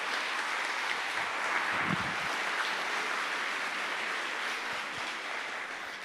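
An audience applauds steadily at a Catholic religious gathering, a dense, sustained wash of clapping with no break.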